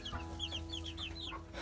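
Baby chicks in a hay-lined coop under a heat lamp give repeated high, thin peeps in quick succession over a steady low background hum.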